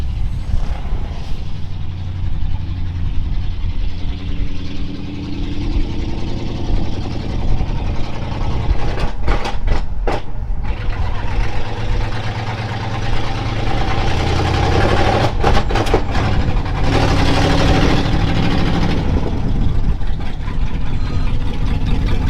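A 1968 truck's engine runs steadily at idle after a test drive around the block, a loud continuous low rumble with a few sharp clatters and bursts partway through, and no talking.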